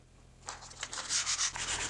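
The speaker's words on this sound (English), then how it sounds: "I'm using 3M's purple no-slip 320 grit sandpaper for sanding this varnish" Varnish on wood is sanded by hand with 3M purple no-slip 320 grit sandpaper on a footstool, making a steady, close, raspy rubbing that begins after a brief quiet moment and continues in quick back-and-forth strokes, with no talking.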